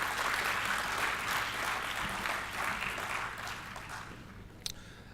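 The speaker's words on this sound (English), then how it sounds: "Can we have a warm round of applause?" Warm applause from an audience at a design and digital fabrication talk: a steady wash of clapping that slowly thins and fades, with one sharp clap near the end.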